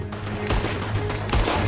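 Rapid gunfire rings out in a Red Dead Redemption 2 shootout, a dense burst of overlapping shots with a couple of louder reports standing out against the rumbling in-game battle noise.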